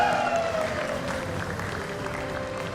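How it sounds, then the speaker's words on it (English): An audience at a hotelier and hospitality leaders' summit in India claps steadily for a speaker, the applause loud and continuous over faint tonal music. "A big round of applause for Mr. Mukesh Chaudhary, Head of Procurement at the Bike Hospitality."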